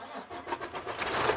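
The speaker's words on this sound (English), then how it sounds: "So when you see it goes away, you can start the truck." A truck engine cranks briefly and turns over, a short, moderately quiet start with no voices.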